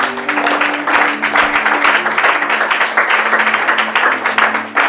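A church congregation applauds during a French-language sermon, with loud, dense rhythmic clapping that holds steady for the whole stretch, close and energetic, while a sustained organ or keyboard tone hums beneath.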